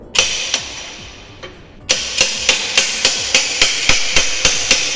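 Metal hammer blows pounding on seized front fork tubes of a Suzuki GT125 motorcycle during a rebuild, sharp ringing strikes in a steady rhythm, a few spaced hits, a brief pause, then about ten regular close, loud blows.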